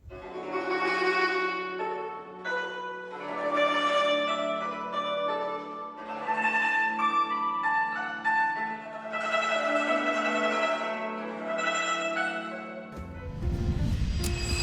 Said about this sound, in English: The guqin is known for its soft, introspective, and highly expressive sound.